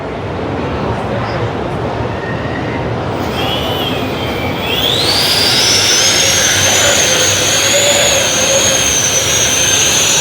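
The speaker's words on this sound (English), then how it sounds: "So it's a drone that's carrying a robot?" High-pitched whining drone rotors of a drone carrying a robot vacuum spin up partway through and hold a loud, steady buzzing tone over a rushing background.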